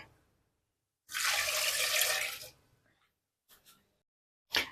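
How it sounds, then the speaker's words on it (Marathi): Water gushes steadily into a pot of veg Manchow soup with crushed garlic for about a second and a half, followed by a couple of faint clinks of cookware. "ह्याच्यामध्ये पाणी घालायचं आहे"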